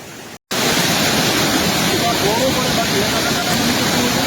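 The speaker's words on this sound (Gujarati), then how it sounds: "આ પારો આગળ પડતો જાય છે અને પાણીની સ્પીડ જોઈ શકો છો આપ" Floodwater rushing through a breached embankment on the Ojat river, a steady, loud broadband roar that fills the whole clip after a brief dropout near the start.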